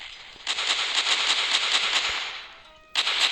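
A rapid string of sharp cracking shots rattles off in quick succession, pauses briefly, then starts again; no talking.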